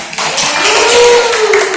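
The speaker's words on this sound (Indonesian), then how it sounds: "Dan tepuk tangan juga untuk kelompok 2." A classroom of students claps for a group presentation, a dense, loud patter of many hands sustained steadily for under two seconds.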